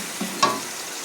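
Garlic, onion and garam masala frying in a pan for a chatpata chana pulao, giving a brief, soft crackle and sizzle against quiet background.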